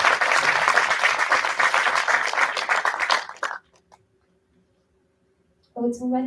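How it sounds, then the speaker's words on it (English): An audience at the Innsbruck Nature Film Festival award ceremony applauds to welcome the city councillor, with dense clapping for about three seconds that fades out, followed by silence and then a brief voice. "A round of applause, please."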